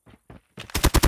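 Automatic gunfire rattles through a video game firefight, starting with a few short muffled bursts and building to loud, rapid close-range volleys at the end.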